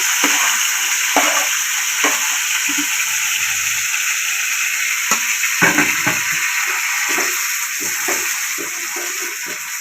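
Tomatoes fry in a pan with a steady bright sizzle, punctuated by scattered knocks and scrapes of a spoon stirring them.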